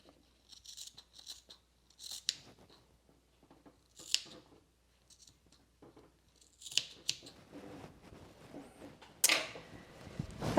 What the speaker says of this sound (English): So I'm going to trim these down to about 1/2 inch.